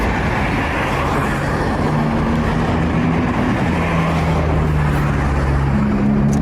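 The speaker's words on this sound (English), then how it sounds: "So what's the issue with the car being a bit louder?" Loud Canadian tourist car idling at a police traffic stop by the roadside, a steady, rough engine drone with low tonal rumble, close and continuous, no talking over it.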